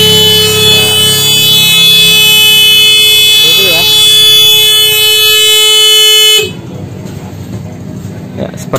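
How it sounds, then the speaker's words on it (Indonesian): A homemade motorcycle anti-theft alarm blares loud and steady with harmonic electronic tones for several seconds, then cuts off abruptly, leaving quieter background noise. "alarmnya akan berbunyi sangat keras sekali"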